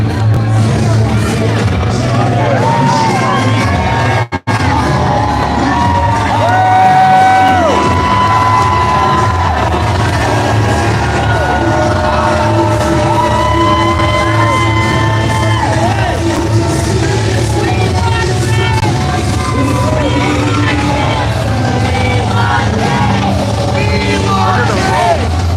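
A large crowd at a political rally for Pierre Poilievre in Sudbury cheers and yells in a steady, loud roar of whoops and babble that carries on without a break.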